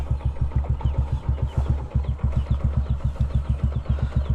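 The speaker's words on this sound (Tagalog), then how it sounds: "Pinapainit na lang natin yung makina ni Mia nang makapunta na tayo kina Boss Peter" A car engine idles steadily while warming up, its low rhythmic chugging pulsing evenly throughout with no voices.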